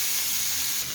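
Cluster beans roast in oil on a hot griddle, giving a steady, close hiss that holds level for under a second with no voices.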